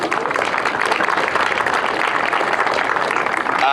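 A crowd at a junior girls' football grand final claps steadily and loudly throughout, a dense, continuous wash of applause with no pauses.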